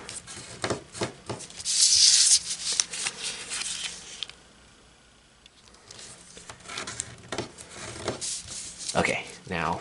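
Origami paper being folded and creased against a desk for a 3D turtle model, soft rubbing and sliding paper sounds that come and go with quiet talking in between.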